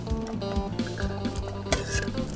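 Garlic, coriander root, red chinda chilies and bird's eye chilies are pounded in a mortar for a Thai dipping sauce, with repeated close knocking and clinking thuds in an uneven rhythm and no voices.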